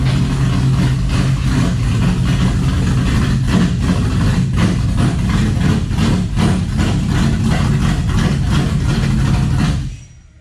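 A race car engine idles loudly and close while being backed into a shop, a steady throbbing low rumble with slight pulsing that continues for about ten seconds before cutting off abruptly.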